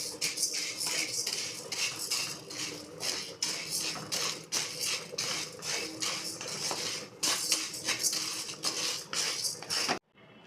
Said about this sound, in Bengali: ডালগুলো শুকনো খোলায় নাড়া হয়ে গেছে বন্ধুরা